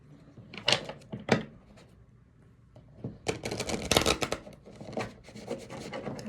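Oracle cards from a Love Oracle deck are shuffled by hand at close range, with a couple of brief riffling bursts followed by a longer, steady run of papery rubbing and flapping.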